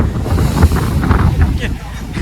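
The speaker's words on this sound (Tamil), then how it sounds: "இப்போ வந்து காற்று நல்லாவே ஏறிடுச்சிங்க மழை விட்டதை விட காற்று சரியான காற்றாக இருக்குது" Strong wind buffets the microphone aboard a deep-sea fishing boat in heavy rain, a loud, gusty low roar that swells and dips, with a voice speaking beneath it.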